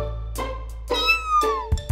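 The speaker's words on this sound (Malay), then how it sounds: "Ada anak kucing." A kitten meows three times in quick succession, each cry a rising then falling squeal, loud and close, with a low hum underneath and no talking.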